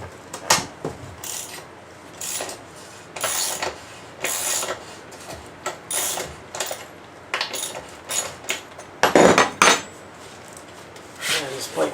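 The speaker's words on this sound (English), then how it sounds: "Let me loosen this other bolt here on the axle." Wrench loosening an axle bolt on a 2024 X-Pro Storm 150 DLX, giving a series of short metallic ratcheting clicks and clanks in irregular bursts, close and fairly loud.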